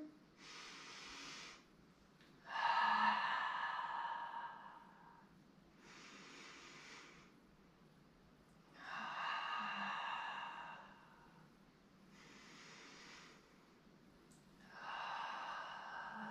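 Slow, deep breathing during a yoga stretch: three long inhale-exhale cycles, close and soft, each breath a breathy hiss separated by short quiet pauses, with no talking.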